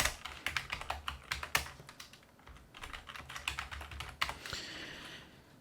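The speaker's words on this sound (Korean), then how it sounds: "내용을 입력하겠습니다. 엔터 누르고" Quick, uneven keystrokes on a computer keyboard typing in a word processor, with short pauses and one firmer press of the Enter key, close and clear with no talk.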